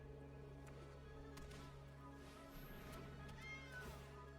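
Cat meows sound as a game effect in MTG Arena, with a faint meow or two over a low steady background hum, quiet and without talk.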